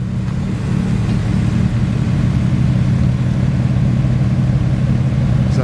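A Porsche 918 Spyder arrives at a Porsche show at the Beaulieu National Motor Museum, its engine holding a steady, loud, close low rumble throughout without any talking.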